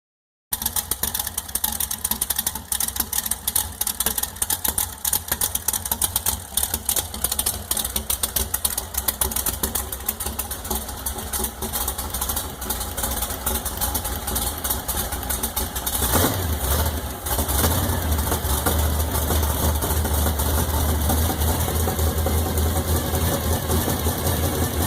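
Werewolf Bonneville race car engine running steadily close by, a continuous rough mechanical drone with a change in tone partway through, no voices.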